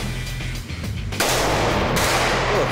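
Machine guns fire at an outdoor shooting range, with loud sustained bursts of rapid gunfire that build and continue with no talking.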